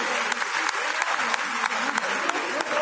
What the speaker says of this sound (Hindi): सभी बहनें तालियां बजाकर धन्यवाद करें।